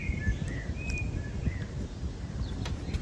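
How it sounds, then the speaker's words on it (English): Faint birdsong chirps and whistles drift over a low outdoor rumble of wind and distant background noise. "Can you hear the birds singing?"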